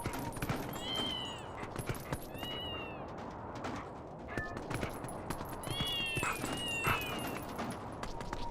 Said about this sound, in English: So many cats, man.